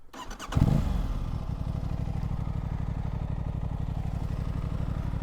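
An Aprilia RS 660 sport motorcycle starts up and settles into a loud, steady, rapid engine thrum, close by and continuous, with no talking.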